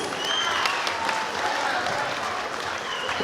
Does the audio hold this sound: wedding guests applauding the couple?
yes